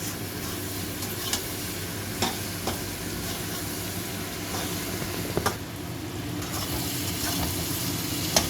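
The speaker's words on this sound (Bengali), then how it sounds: "মশলা দিয়ে ভাজা ভাজা হয়ে গেছে একটু," Spices fry in a hot pan at home while being stirred: a steady close sizzle runs throughout, broken by a few sharp scraping clicks from the spoon, with no talking.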